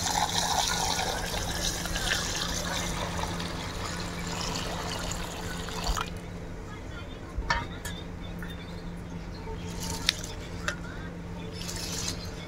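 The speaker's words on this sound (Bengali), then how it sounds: "প্রথমেই চালের মধ্যে জল দিয়ে দেব।" Water pours into a pot of rice for washing, a steady close splashing stream for about six seconds, then quieter trickling and squishing as the grains are handled.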